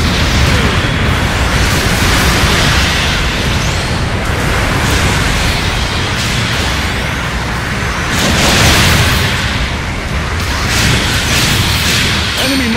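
Mobile suit explosions in the video game Gundam Battle Operation 2 pile up in a dense, loud wash of blasts and crashing debris, with stronger booms swelling around the middle and near the end.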